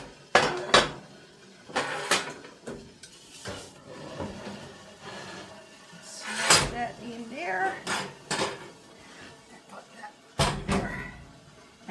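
A heavy pot of traditional Newfoundland pea soup is shifted on a wood cookstove and set onto a riser, making a series of loud metallic clanks and scrapes with pauses between them, close by, while a person talks intermittently.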